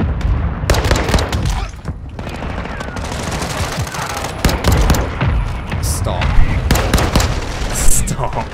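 Rapid gunfire from a pistol in Call of Duty: Modern Warfare II, loud and close, with sharp shots in quick bursts that go on steadily throughout, mixed with game effects and a voice talking underneath.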